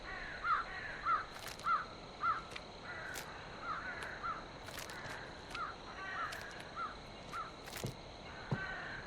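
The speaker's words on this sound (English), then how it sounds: "There's a bird." Repeated crow caws in a forest video game, about a dozen regular calls in steady succession at moderate distance over a quiet ambient background, with a couple of sharper knocks near the end.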